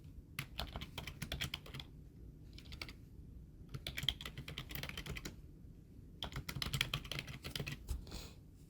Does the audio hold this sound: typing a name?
yes